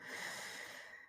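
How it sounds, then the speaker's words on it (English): A person yawns with one long, breathy exhale, heard up close and fading out at the end. "Sorry about the yawning."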